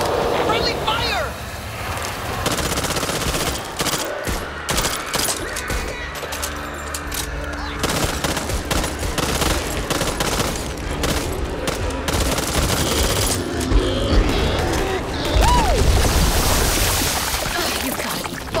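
Sustained automatic gunfire in the zombie shooter Back 4 Blood, dense rapid bursts that continue almost throughout, loud and close, with game voices speaking over the shooting.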